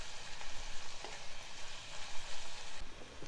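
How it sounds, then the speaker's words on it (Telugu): Brinjal (eggplant) frying in a pan with ginger-garlic paste makes a steady, close, crackling sizzle with soft stirring pulses throughout. "తర్వాత మనం మూత పెట్టి వంకాయలు వేగనివ్వాలి"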